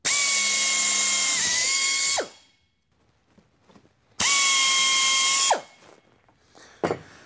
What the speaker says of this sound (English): We want a pilot hole for our drilling, so why don't you go ahead and just drill a hole through all one of those.